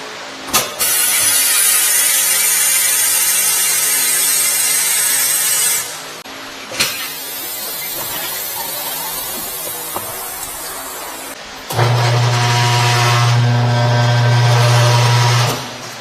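A Katool KT-T800 tire changer with a 2.0 HP motor works a large tire onto an aluminum alloy wheel, with bursts of loud motor whir and grinding, a pause with lighter rattling, then a steady hum; no speech.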